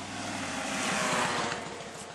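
A motorbike rolls past on a road near a driveway, a rising and falling engine drone that builds to its loudest mid-pass and then fades away. No one talks over it.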